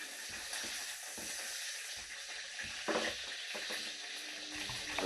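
Aberdeen Angus beef chipolatas sizzle steadily in a hot pan for a stir fry, a loud continuous hiss with occasional clatters from stirring.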